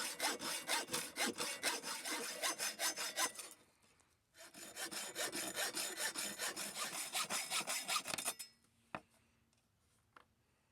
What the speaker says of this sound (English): I prefer to use bar steel that I cut to shape with a hacksaw